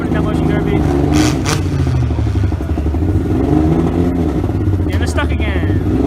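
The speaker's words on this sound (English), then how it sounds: "They're trying to rev it up, get it moving." A battered car's engine revving repeatedly during a youth-division demolition derby heat at a county fair, rough rising roars with clattering, while people talk nearby and the crowd murmurs.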